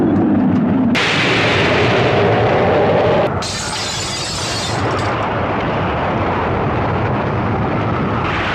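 A bomb dropped from an aircraft explodes: loud, sustained broadband roar and rumble with a sharp burst partway through, rolling on steadily for several seconds without voices.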